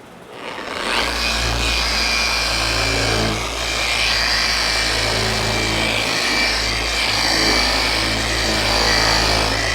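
A power buffer with a 3M Trizact pad sands and buffs a surface, a loud continuous whirring drone with a low hum and slight swells in pitch as the pad presses and moves.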